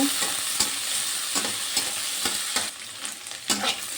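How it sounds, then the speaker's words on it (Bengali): Potatoes and onions frying in hot oil in a pan, a steady close sizzle broken by repeated sharp scraping clicks of stirring at a quick, uneven rhythm, with no voices. "আলু আর পেঁয়াজটা ভালো করে ভেজে নেব।"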